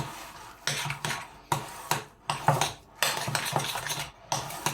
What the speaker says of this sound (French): Là je mélange tout.